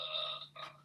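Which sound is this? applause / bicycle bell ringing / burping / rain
burping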